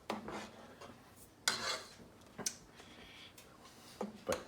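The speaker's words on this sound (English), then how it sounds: "Let's dip a spoon into the cauldron here" A spoon dips into a pot of lobster bisque, making quiet metallic clinks and scrapes against the pot in a few separate taps, close and soft.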